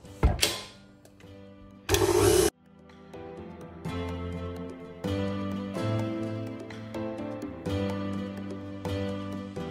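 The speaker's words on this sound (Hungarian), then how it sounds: "A cukrot és a tojás sárgáját most összekeverjük." An electric mixer beats sugar and egg yolks for a chocolate cake, a steady whirring drone running almost without a break after two short loud bursts at the start.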